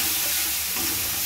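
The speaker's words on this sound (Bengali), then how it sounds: "তো দেখো সব মশলাটা আমার একদম কষে গেছে, পুরো তেল ছেড়ে দিয়েছে।" A spice masala with cumin powder and Kashmiri chili powder fries in oil for chicken rezala, giving a dense, steady, close sizzle and hiss with no talking.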